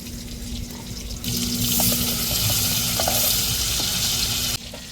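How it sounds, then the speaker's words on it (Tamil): Valai fish, or ribbonfish, frying crisp in hot oil: a loud, steady sizzle that swells suddenly and holds with popping crackles before cutting back down near the end. "வாழை மீனை இப்படி முருவாக பொறிச்சா தாங்க சாப்பிட்றது செம்ம டேஸ்ட்டாக இருக்கும்"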